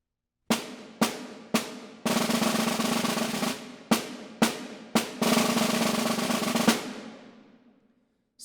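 Snare drum in a masterclass demonstration: three short separated strokes, then a sustained roll, more short strokes, then a long tied roll ending in a single accented note that rings out and decays.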